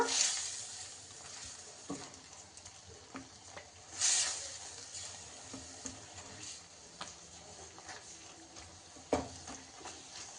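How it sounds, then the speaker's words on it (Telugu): Chole spice masala fries quietly in a pan, a faint soft sizzle marked by occasional louder bursts and light clicks of stirring. "ఇవన్నీ బాగా మిక్స్ చేసుకొని కొంచెంసేపు ఫ్రై చేసుకున్నాక"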